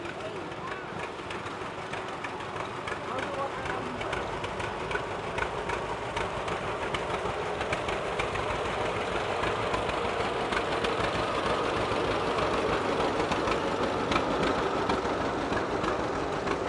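A 1949 John Deere A tractor runs steadily in an antique machinery parade, its engine a continuous, fairly loud chugging drone under broad outdoor noise, with a voice speaking over it.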